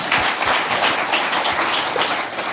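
Audience applause during a Telugu church sermon, a dense steady clatter of many hands clapping that holds at an even level for its whole short span, with no talking over it.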